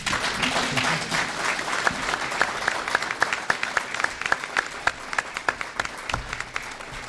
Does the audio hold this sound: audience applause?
yes